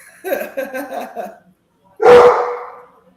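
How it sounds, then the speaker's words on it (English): Dogs barking in bursts, several quick yaps in the first second and a half, then a pause and one loud, close bark near the end. "Dude, he's barking for no reason."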